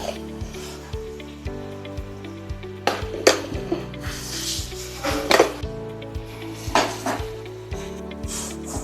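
Tomato pieces cook for a Telangana-style tomato pickle with tamarind, turmeric and salt, sizzling softly in a pan while a utensil scrapes and clanks against the metal in repeated strokes over steady background music.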